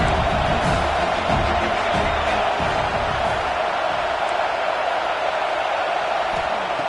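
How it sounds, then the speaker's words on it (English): Crowd noise fills a football stadium during the early going of a game, a dense, loud, sustained roar of massed fans holding steady without clear peaks. "Listen to the crowd energy here in the early going."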